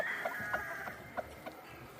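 Old-blood Gilmore game chickens, three hens and an 8-to-10-year-old rooster, in a farm brood pen: scattered clucks and short calls at a steady moderate distance over a low continuous background hum.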